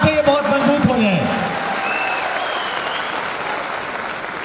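An audience at a business motivational seminar bursts into loud, sustained applause from many hands, with a voice speaking over the opening moments before the clapping carries on alone and gradually eases.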